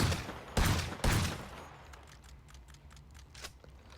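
Automatic gunfire in GTA V Online, with two loud, close bursts early on, then a string of fainter, distant rapid shots over a low background hum, and no voice.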